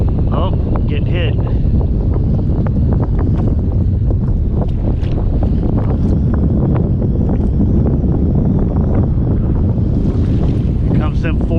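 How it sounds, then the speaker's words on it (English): Strong 40-mile-an-hour wind at sea heard from a kayak while ocean fishing, a loud continuous roar and buffeting on the microphone with water sloshing underneath and a voice talking over it. "Here comes them 40-mile-an-hour winds again."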